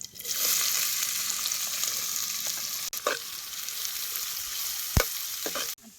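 Chopped onion frying in hot oil with cumin seeds over a wood-fired stove, a steady bright sizzle running throughout with a few soft scrapes of stirring and no voices.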